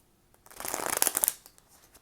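A deck of tarot cards is shuffled close by, a short rapid flurry of riffling card slaps rising to a crisp burst and then settling, with no voice.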